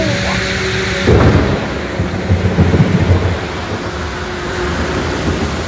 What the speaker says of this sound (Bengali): বিদ্যুৎ চমকাচ্ছে ভাই, খালি সাউন্ডটা শোনো